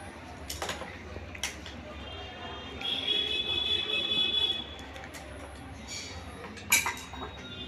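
Magneto side cover being removed from a Honda Shine SP BS6 engine, quiet metallic clinks and taps of tools and parts at irregular intervals, with a brief faint whine in the middle.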